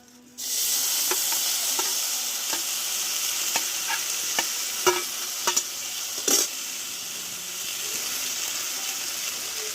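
Soaked sabudana pearls fry in ghee with a loud sizzle that starts suddenly and holds steady, while a spatula scrapes and taps the pan at irregular intervals.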